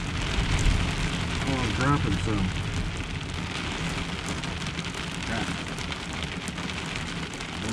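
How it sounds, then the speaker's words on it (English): Heavy rain drums steadily on a truck roof during a severe overnight thunderstorm, a dense continuous hiss close around the cab, while a person talks briefly over it. "It's storming pretty good out there, I guess."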